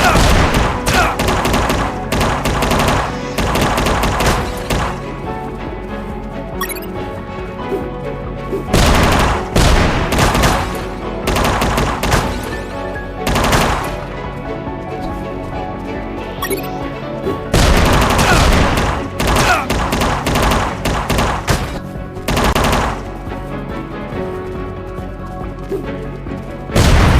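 Machine gun fire rattles in the UnMetal video game, with dense bursts of rapid shots, booms and crashing impacts, loud and close in repeated waves across the whole stretch.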